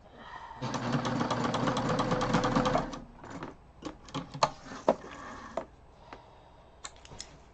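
A sewing machine runs a steady fast stitch through a backpack for a few seconds, then stops and gives a series of short separate clicks and taps from the mechanism as it is handled.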